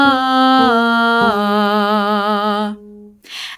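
A single voice sings an open ah vocal range exercise, stepping down through three sustained pitches with gentle vibrato on the last, clear and close, followed by a short breath.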